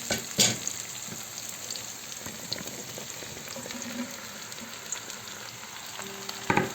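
Bell pepper goes into a pan of onions frying for a vegetable ragout, giving a steady close sizzle with a few sharp clatters of utensils against the pan.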